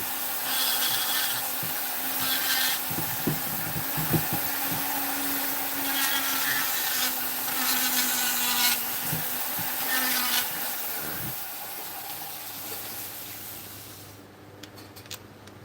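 A flex shaft rotary tool with a burr carves wood close by, giving a sustained whirring grind with scraping bursts that stops near the end, and no one speaks.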